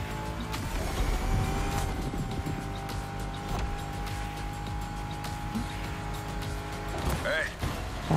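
Ford Mustang engine in the racing video game The Crew Motorfest, a steady droning motor hum with a revving surge near the end, heard under people talking.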